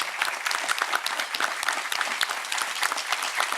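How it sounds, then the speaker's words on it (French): Audience applause for a charity on a Corsican stage show, brisk crisp clapping from a crowd, close and continuous with sharp individual claps standing out. "qu'on peut applaudir d'ailleurs."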